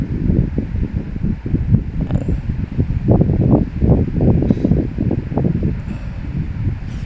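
Strong wind roaring and buffeting steadily in Qaqortoq, Greenland, with gusty low rumble throughout and no voices.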